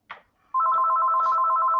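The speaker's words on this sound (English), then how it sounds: "Who's got the phone ringing?" Telephone ringing close and loud, a rapid warbling electronic trill that starts abruptly after a brief soft knock and continues steadily, no talk.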